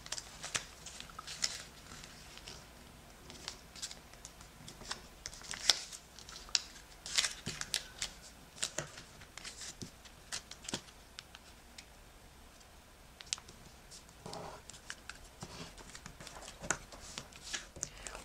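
Sheet of paper being folded for an origami nail polish bottle, with soft close crinkles, taps and creasing scrapes in an irregular rhythm, quiet and alone.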